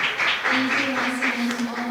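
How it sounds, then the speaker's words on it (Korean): Audience applause for the panelists and moderator at the close of a health security forum session, a steady wash of clapping filling the whole stretch at moderate level, with a sustained tone running underneath. "패널분들 그리고 좌장님께 큰 박수 부탁드립니다."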